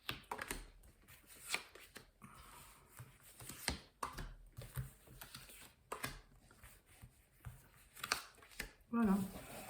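Tarot cards are drawn and laid out into a nine-card spread: soft shuffling, sliding and light taps of card stock recur under a speaking voice, close and quiet.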